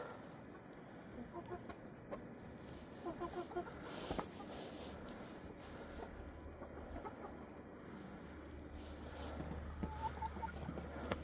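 Hens outdoors during their first snowstorm, clucking and murmuring softly at a distance over a steady windy background, with occasional louder calls scattered through.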